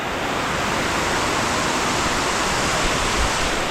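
Bantakay Falls waterfall pouring with a steady, dense roar that fills the whole clip, loud and constant without pause or voices.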